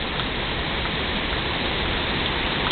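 Steady rain falls on a farm with fruit trees and crops, a dense, even hiss that holds at moderate loudness throughout with no voices.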